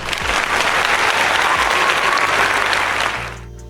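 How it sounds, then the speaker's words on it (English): A round of applause from an audience, dense steady clapping that holds for about three seconds and then fades quickly. "give her a round of applause"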